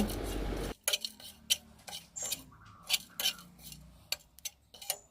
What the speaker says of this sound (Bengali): হাত দিয়ে একটা থালা নিয়ে একটা নোড়া দিয়ে আমাকে এটাকে গুঁড়ো করতে হচ্ছে